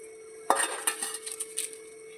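A utensil stirs grated coconut into melted jaggery in a pan, giving a sharp metallic knock followed by a series of lighter scraping and clinking strokes, close and fairly quiet.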